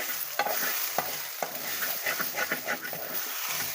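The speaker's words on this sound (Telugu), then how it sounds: "అడుగంటుకోకుండా మనం చూసుకోవాలి, చక్కగా దోరగా వేపుకోవాలి." Grated coconut stirred and dry-roasted in a pan for khajji kayalu, giving close scraping strokes of a spoon against the pan at an irregular rhythm over a soft, steady sizzle.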